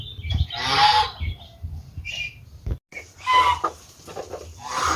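Muscovy ducks and geese in a pen at feeding time, giving repeated loud squawks, hisses and honks at close range with short pauses between calls.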